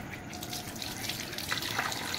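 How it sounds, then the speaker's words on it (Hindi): Hands being washed under a running tap: a steady, close hiss and splash of flowing water with small splashy changes as the hands move, continuous throughout and without talking. "अब मैं हाथ धो लूँगा"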